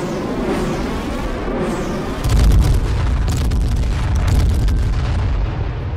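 Airstrike explosions in the battle royale video game H1Z1: a heavy, booming blast rolls in after about two seconds and sustains as a loud, rumbling barrage of bursts, with a second swell near the end.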